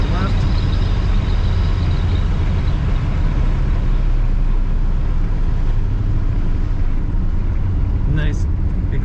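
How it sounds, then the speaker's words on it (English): A 1968 Dodge Dart GTS driving at road speed, its exhaust a deep steady rumble under loud wind and road noise, with someone talking over it throughout. "Nice exhaust sound to this car."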